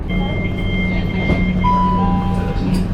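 A Southern passenger train runs over the rails near Clapham Junction, a steady loud rumble and hum heard from on board throughout, with a brief tone rising partway through and faint voices in the carriage.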